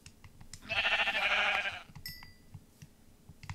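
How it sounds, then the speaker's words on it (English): A sheep in the Minecraft video game gives one clear, close bleat lasting about a second, with a short chime-like tone after it over quiet game sounds. "Come here, sheep."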